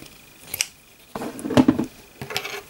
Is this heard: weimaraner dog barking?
no